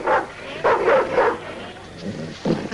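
A sled dog barks again and again, loud and close, in several bursts with short gaps.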